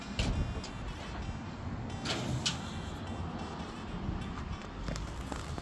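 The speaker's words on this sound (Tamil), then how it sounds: "ஸோ இப்போ நீங்கள் பார்த்தீங்கன்னா அந்த கேரேஜ் வந்து ஓப்பன் பண்ணுறேன்." A garage door opens at a four-bedroom show home in London, a steady mechanical rumble and whir running throughout with a few faint clicks and knocks.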